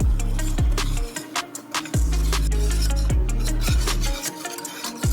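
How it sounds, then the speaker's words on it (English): A spoon stirs banana pudding mix and milk in a pot, scraping and rubbing against the bottom in slow strokes with repeated low knocks, close and moderately quiet, with no talking. "And then we just sit here and stir"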